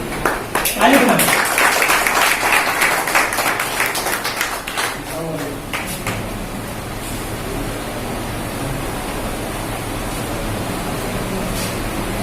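Applause from an audience at an award ceremony, a burst of dense clapping that fades into a softer, steady wash of noise, with voices heard over it.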